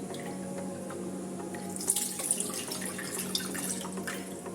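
Tap water runs steadily into a vessel for squeezing tamarind while a sardine curry is prepared, a soft continuous splashing trickle heard close by with no talk.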